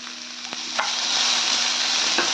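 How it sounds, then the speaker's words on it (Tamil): Tomato, coconut and onion frying in a pan: a close, steady hiss that grows louder and denser midway, punctuated by a few brief clicks of a spoon against the pan, with no one talking. "இதெல்லாம் போட்டு நல்லா ஃப்ரை பண்ணலாம்"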